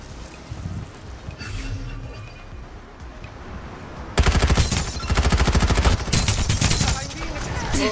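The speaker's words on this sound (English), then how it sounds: "Someone was shooting from behind." Automatic gunfire in Farlight 84 battle royale rattles in loud rapid bursts after a quieter windy stretch, with a few fainter shots earlier.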